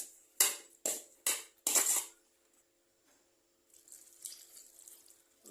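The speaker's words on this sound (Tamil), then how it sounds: "அதுக்கு மேலே இன்னொரு பாதி தண்ணி ஊற்றுறேன்" Water poured in several short splashing bursts over cut raw mango pieces being prepared for sun-dried mango vatral, followed by a quieter trickling stretch.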